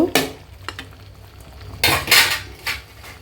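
Papaya and carrots being stirred in a cooking pan, with a few scraping spoon strokes against the metal and a louder clatter of utensil and pan near the end; no talk.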